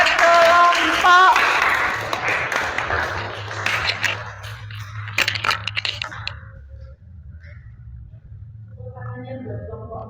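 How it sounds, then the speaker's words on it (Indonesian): Students in a classroom clap for a group after its presentation: a burst of applause that quickly thins into a few scattered claps and taps, then fades into quiet room noise. "berikan tepuk tangan buat kelompok"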